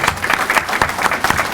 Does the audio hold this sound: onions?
no